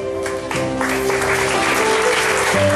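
Church congregation applauding steadily at an evangelistic service, a dense continuous wash of clapping over sustained music tones throughout.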